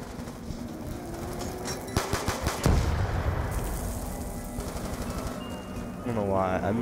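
Bursts of RPD machine gun fire rattle through a Call of Duty zombies match, rapid clusters of sharp shots amid game effects and background sounds, with talking heard at times.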